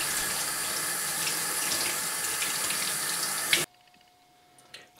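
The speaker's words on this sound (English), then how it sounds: "we're going to rinse and clean these shaggy manes up a little bit" Tap water runs steadily into a sink while shaggy mane mushrooms are rinsed, a close, constant splashing hiss that stops abruptly when the faucet is shut off, leaving a few small drips and clicks.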